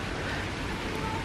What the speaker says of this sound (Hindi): मौसम हो गया अच्छा, बारिश आने लग गई है